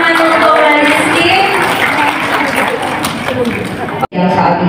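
A seminar audience claps for Rizky, a dense, loud burst of applause and crowd chatter that stops abruptly near the end, followed by a brief resumption of room noise.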